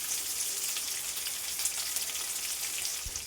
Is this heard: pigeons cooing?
no